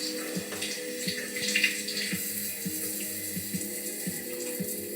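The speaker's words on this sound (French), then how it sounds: "On s'attarde un peu beaucoup à cette douche" Shower water runs steadily in a web series scene, a continuous hiss and splatter with a low rhythmic patter underneath, played back without talk.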